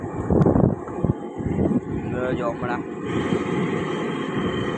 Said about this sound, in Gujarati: પવન હે બહુ જ